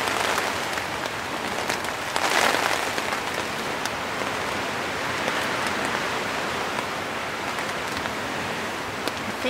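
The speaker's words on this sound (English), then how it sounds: "I do enjoy the sound of the rain a lot" Steady rain patters densely on a tent on a ridge in the Adirondacks during a storm, a continuous close hiss with a brief heavier surge.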